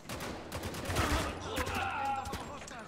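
Bursts of automatic gunfire crackle through a firefight in the video game Spec Ops: The Line, with overlapping shots and game voices shouting over the din.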